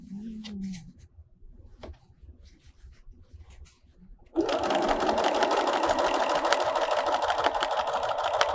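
A sewing machine quilts a painted fabric panel, starting after some quiet handling noises and then running at a steady, fast, even stitching rhythm until the end.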